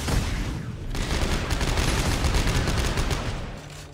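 Rapid gunfire from Dead Space 3 weapons, including a plasma line gun, a dense continuous burst of loud shots filling the clip before easing off at the end.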